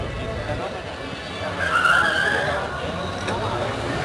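Two Ford Escort RS Turbo cars launch side by side at a drag race start, with a loud, steady engine roar and brief tire squeal heard from a distance, with a commentator talking over it.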